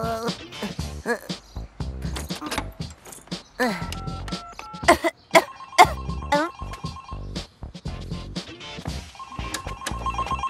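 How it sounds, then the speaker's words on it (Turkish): A telephone rings repeatedly in a cartoon episode scene, its ring tone recurring amid music and other sound effects, with nobody talking over it. "Lanet olasıca telefon."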